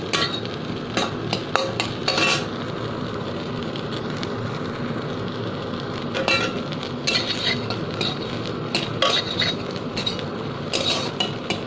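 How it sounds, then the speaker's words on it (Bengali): Soybean chunks fry in a pan with whole cumin added, a continuous sizzle broken by repeated sharp scrapes and clacks of a spatula stirring against the metal. "তো চলো দেখি সোয়াবিনটা কতদূর ভাজা হলো"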